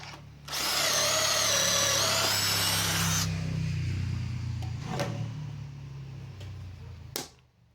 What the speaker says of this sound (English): To drill for dowels, I use this jig.